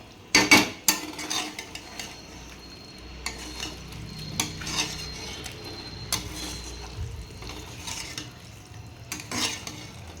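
Spicy chicken masala being stirred in a pan, with a utensil scraping and clanking against metal over a low sizzle, in irregular bursts close by.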